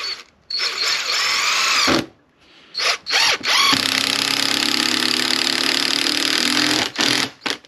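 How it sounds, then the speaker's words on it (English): A power driver sends a screw into wood clamped in a vise during an annexe build, with several short whirring bursts and gaps, then one long sustained run of the motor near the end. "I'm going to put a screw in here"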